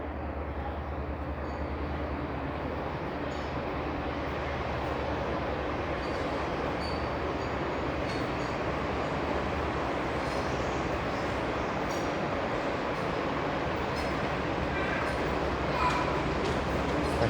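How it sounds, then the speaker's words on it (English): A Toronto streetcar arrives on Bathurst Street, a steady loud rumble of rolling wheels and motors with faint squeals, continuous throughout, under a man's speech. "I think this is the streetcar I want, so I'll just leave the camera running while I get on"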